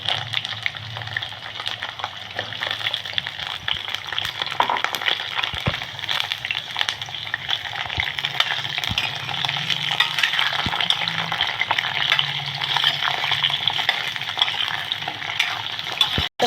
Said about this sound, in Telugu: పైకి కిందికి చేస్తూ కొంచెం మంచిగా ఆయిల్లో ఫ్రై అయ్యేలాగా చేసుకోవాలన్నమాట